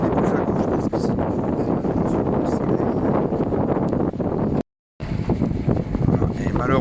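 A sailboat motoring under engine power near Porto Pollo and Roccapina, with a loud continuous rumble mixed with heavy wind buffeting and water rush, cut by a half-second dropout before resuming.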